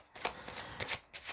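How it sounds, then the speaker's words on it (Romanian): Tarot cards being shuffled and flicked in quick papery bursts, three short riffles close by, with no voices. "vom scoate 3 cărți."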